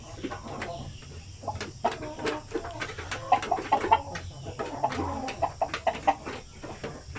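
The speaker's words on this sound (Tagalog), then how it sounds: "So yan po ang ating mga Sampin native chicken." Sampin native chickens from Zamboanga cluck and chatter close by in a farmyard, a flock of short, overlapping calls in uneven bursts over a low background hum.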